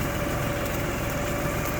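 An LS tractor engine runs steadily during farm work, a continuous close mechanical drone with no change in pace and no voices.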